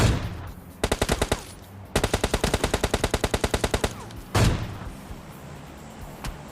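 Rapid bursts of gunfire from an M24 sniper rifle in the mobile game PUBG Mobile Lite, with two long strings of sharp shots and a heavier single blast afterward, loud and without talk.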